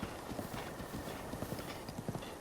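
Epona the horse gallops in Breath of the Wild, a steady run of clip-clop hoofbeats in fast rhythm over a constant game background, close and moderately loud.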